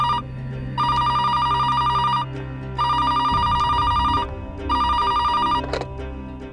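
A telephone rings indoors with three long electronic ring bursts separated by short pauses, loud and close, with faint background noise underneath.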